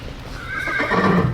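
A horse whinnies loudly and close in a single brief neigh, with hoof clip-clop underneath, heard alone without any talk.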